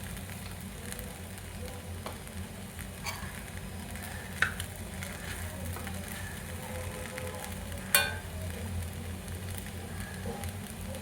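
Peanuts frying over a low flame in a pan of poha, a steady soft sizzle with faint stirring scrapes and a couple of sharper clicks, close and alone without talk.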